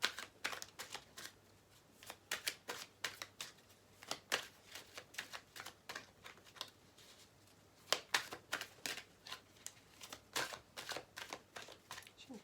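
Playing cards shuffled by hand for a tarot-style card reading, a long run of crisp riffling bursts in quick clusters with brief pauses between, close to the microphone, with no talking.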